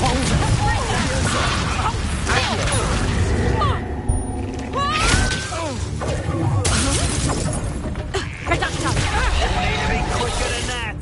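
Fire spell cast in the Hogwarts Legacy video game, a fiery whoosh and burst erupting amid a dense, loud duel of crashing magical impacts, shattering and booming effects under shouted spell voices.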